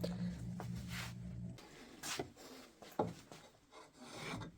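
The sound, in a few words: spokeshave with new sole cutting wispy wood shavings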